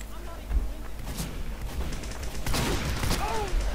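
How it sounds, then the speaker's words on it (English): Rapid gunfire and explosions in a Team Fortress 2 match, a dense, continuous clatter of shots layered over game ambience, with a player's voice faintly underneath. "I got shot by a strange gun."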